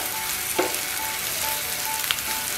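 Red chilli powder, turmeric and other spices fry in a pan for a mola fish curry, producing a steady close hiss and sizzle. A couple of brief clinks or stirring taps sound over it.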